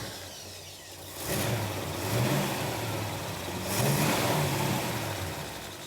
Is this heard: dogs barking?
no